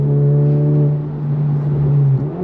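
A Honda Civic Type R FL5 pulls hard on throttle, its engine drone steady and prominent from inside the cabin, with a brief dip near the end as the pitch shifts.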